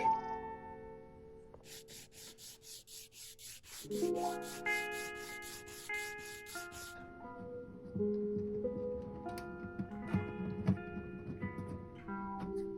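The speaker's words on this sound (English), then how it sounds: "To maintain the action, I need to shave a little bit off of the saddle." An acoustic guitar saddle is shaved down by sanding: a quick run of regular, short rasping strokes over sustained guitar notes that continue after the sanding stops.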